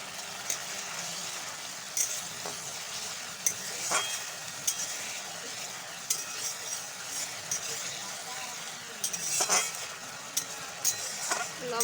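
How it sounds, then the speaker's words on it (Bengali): Spice masala with salt and turmeric is sautéed in a pan for pabda fish curry, a soft continuous sizzle broken by scraping and clinks of a stirring spoon, with quiet talk in the background. "কষিয়ে নেব মশলাটা মানে যতক্ষণ না আর কি কাঁচা গন্ধটা এখান থেকে চলে যায়"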